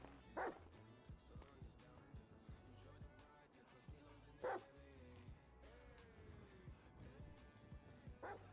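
A dog in a GTA 5 roleplay game barks in a few sharp separate yaps spread across several seconds, with whimpering tones and game background sounds in between, fairly quiet overall.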